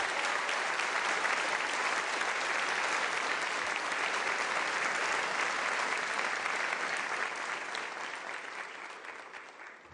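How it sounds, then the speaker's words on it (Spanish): Sustained, thick applause from a packed National Assembly chamber in Venezuela, honoring the deputies, holds evenly for several seconds before tapering off. "Pido un aplauso también para los diputados y diputadas del Cuerpo de la Patria que aquí están"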